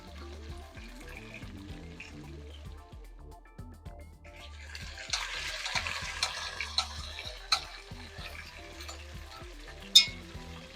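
Garlic fries in a hot pan with a continuous soft sizzle that intensifies midway, broken by a few sharp clicks and clatters of utensils, fairly close and without talk.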